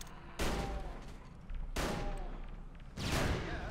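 Explosions in the shooter game Hunt Down The Freeman, three loud booming blasts about 1.3 seconds apart, each with a long rumbling tail, no talk over them.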